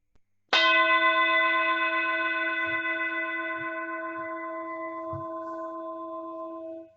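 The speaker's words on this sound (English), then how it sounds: "Allow awareness to deepen with the sound of the bell." A single meditation bell is struck once and rings out loud and clear with a rich, steady resonance, slowly decaying over about six seconds. A few faint, soft knocks sound underneath as the tone fades.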